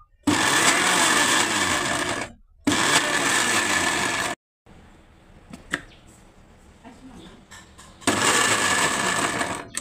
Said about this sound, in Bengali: এটাকে আমি এখন ব্লেন্ড করে নিচ্ছি।